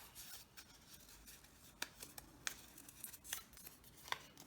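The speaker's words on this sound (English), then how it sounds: "cut circles that are a bit smaller, a little bit smaller than the white ones that you made" Scissors cutting circles out of black paper, a series of quiet, crisp snips spaced irregularly, close and soft against a near-silent room.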